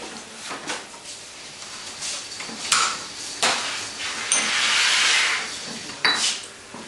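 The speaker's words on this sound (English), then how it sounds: "Just some peppercorns there. I prefer to grind my own spices because the flavour is a lot better, stronger." Whole peppercorns ground by hand in a kitchen, with repeated scraping and crunching knocks and a longer grinding stretch near the end, close and fairly loud.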